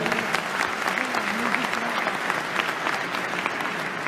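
A crowd claps steadily after a startup pitch at a demo day event, a dense, even wash of applause with a voice briefly heard beneath it.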